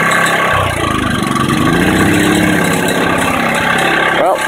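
A small lawn mower engine, cold and running with the choke on, idles steadily up close with a loud, even mechanical drone that does not let up.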